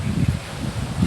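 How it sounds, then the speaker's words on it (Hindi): Strong gale-like wind buffets the microphone outdoors, a continuous low rumbling roar with uneven gusty surges throughout the short stretch, with no voices. "बहुत तेज़ हवा चल रही है, लिटरली एक आंधी जैसी हवा चल रही है"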